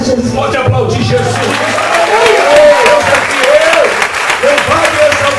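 A church congregation at a Sunday testimony service claps together. The applause is loud and close, with voices calling out and a sung or shouted line running over the clapping.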